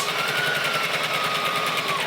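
A sewing machine stitches a tiered skirt, running steadily at high speed, its needle stitching in a fast, even rhythm with a constant mechanical whir and no pauses.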